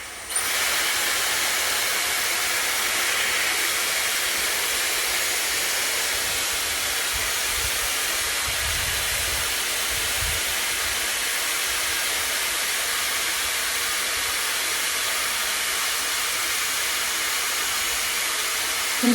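Dyson Airstrait hair dryer-straightener blowing on wet hair, a loud, continuous close-up rushing hiss of airflow that holds steady throughout with no talk.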